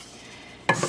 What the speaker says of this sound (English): I'm going to stir this rice so that every grain is completely coated with just a little bit of butter